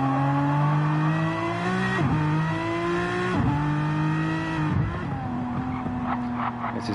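A front-engine race car in a racing video game runs a hot lap, its engine note climbing through the gears with sharp drops at each shift, loud and continuous, with a brief bit of tyre noise near the end.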